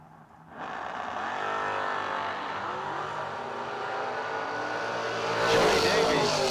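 Drag racing cars, including a Camaro in the left lane, launch at a strip and hold a steady loud engine roar that swells louder near the end.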